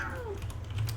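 A cat's meow with a falling pitch glides briefly over steady low background hum and light tapping, like typing on a keyboard at a computer; the call is short and fairly close.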